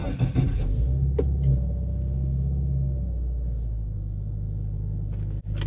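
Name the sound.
2020 Subaru WRX engine starting with push button start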